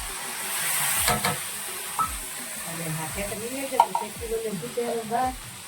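Fish curry cooking in a pan for dinner, an oily sizzle and hiss with stirring scrapes, close, while a person talks over it.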